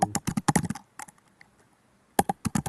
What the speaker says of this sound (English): Miranda, you sound like you're angry at your keyboard.